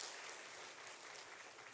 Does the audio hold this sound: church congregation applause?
yes